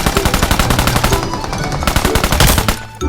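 Loud, rapid automatic gun bursts fire in PUBG, a steady close rattle of shots with brief pauses between strings.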